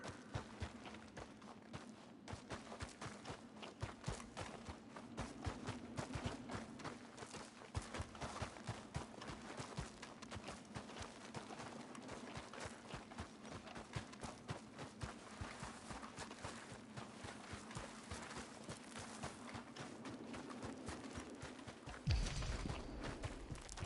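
A horse in Red Dead Redemption 2 moves with a steady clip-clop of hooves, quiet and even, running unbroken until a short thump near the end.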